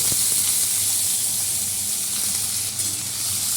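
Bitter gourd and potato fry in hot oil with dried red chilli and nigella seeds, a loud, steady sizzle and hiss with a faint clink of utensils near the start.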